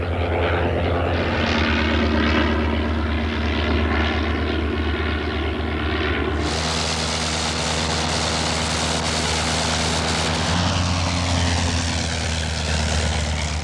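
An early Avro biplane's propeller engine drones loudly and steadily without pause, a deep rumbling hum with a harsher, brighter roar taking over partway through as the engine note changes.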